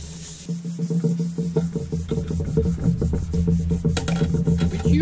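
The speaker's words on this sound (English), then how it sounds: "a surface plate, a little bit of sandpaper, and just remove any high spots and get them to their final dimension" Metal blocks rubbed on sandpaper laid over a surface plate, giving quick repeated scraping strokes in a steady back-and-forth rhythm, close and fairly loud.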